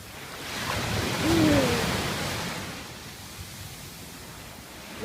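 Waves wash up on a beach as a steady broad surf roar with a gentle swell, fairly close, while a voice cries out briefly in the middle.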